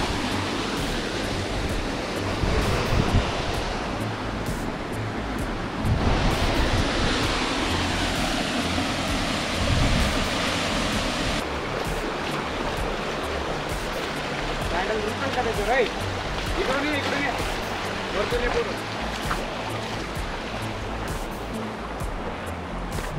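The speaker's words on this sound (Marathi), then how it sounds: "खालनं एवढी जोरात हवा येते की तो त्याला पूर्णपणे पाण्याला उलटा वरती परत फेकतो तो" The reverse waterfall at Bhandardara, where strong wind from below throws the falling water back upward, makes a loud, steady roar of rushing water and gusting wind across the whole stretch. Voices are faintly audible beneath it.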